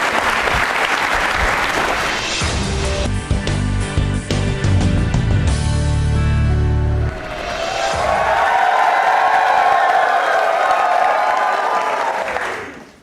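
A studio audience at a Rajasthani quiz show claps loudly and cheers for a named participant, dense applause at first, then thinning into scattered claps before a shrill cheer rises near the end.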